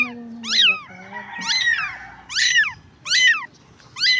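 Small stray kitten on a dirty street crying with a series of about five sharp, plaintive meows in quick succession, close and loud, with a person talking softly underneath.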